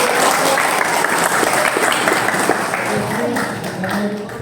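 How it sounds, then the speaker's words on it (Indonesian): Dense applause from a school audience during a weather and geophysics outreach session, loud and even for the whole stretch with no talk over it. "terima kasih tepuk tangan"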